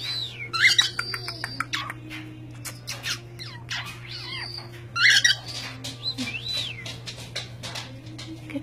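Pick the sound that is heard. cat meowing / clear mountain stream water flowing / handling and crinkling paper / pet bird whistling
pet bird whistling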